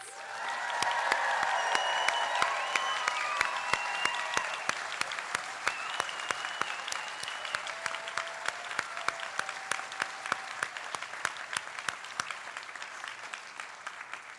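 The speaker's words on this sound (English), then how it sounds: "give one more really enthusiastic round of applause to our new white coat recipients" Enthusiastic audience applause for new white coat recipients at a university health sciences ceremony, a long sustained burst of many hands clapping that stays loud and steady, thinning slightly toward the end.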